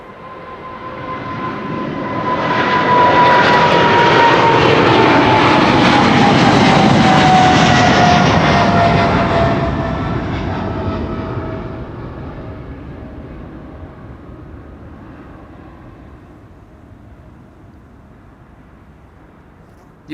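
China Southern Cargo Boeing 777 freighter taking off at Amsterdam Schiphol, a loud jet roar with a whining engine tone swelling close by, holding strong, then slowly fading into the distance.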